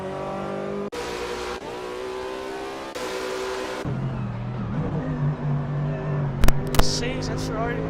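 Racing cars, including an Audi, a Ferrari and a Mercedes, roar through an Assetto Corsa championship race with engines revving and shifting and a brief tire squeal, under almost constant commentary.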